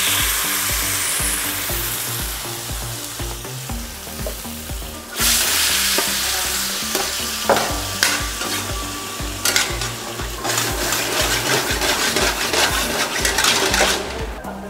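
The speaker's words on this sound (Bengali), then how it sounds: "ম্যারিনেট করা চিকেনগুলো এর মধ্যে দেওয়া হচ্ছে।" Marinated chicken sizzles and is stirred in a clay pot for a dhaba-style dish, with a bright frying hiss and scraping swells over steady background music.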